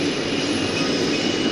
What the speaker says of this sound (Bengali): এই ট্রেনটা কমলাপুর থেকে আসতেছে।